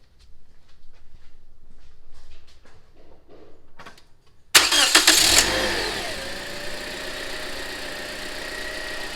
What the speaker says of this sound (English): Let us start the engine to get the accurate transmission fluid level.